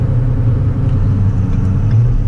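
A vehicle cruises along a road while overtaking, giving a steady, loud low engine drone and road rumble from inside the cab, with no talking.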